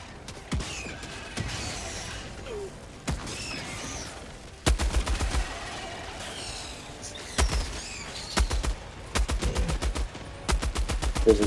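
Heavy machine gun in the video game Helldivers 2 firing at 1200 rounds per minute, rapid dense bursts of gunfire that start and stop repeatedly, loud and close with no talking over it.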